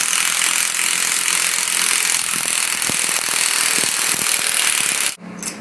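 A hand ratchet turns the hex drive of a Zip Bolt UT rail bolt joining a handrail, giving a fast run of close, crisp pawl clicks that stops abruptly near the end.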